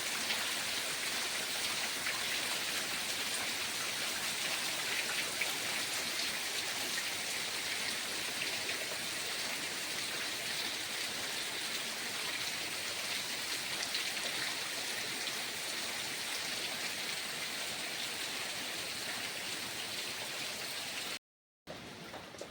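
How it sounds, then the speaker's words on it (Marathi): Steady, dense downpour of heavy rain hissing continuously with no voices, briefly cutting out near the end before resuming. "चार पाच दिवस झाले जोरात पाऊस पडतो"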